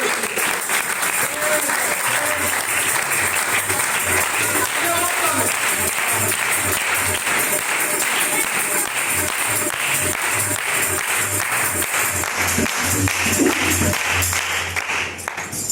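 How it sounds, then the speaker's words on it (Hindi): A church congregation gives long, loud applause during a pastor's sermon. The clapping is steady and full for over fifteen seconds, with a voice and low tones underneath. "खुदा को और खुदा के खादम को जोरदार तालियों के साथ"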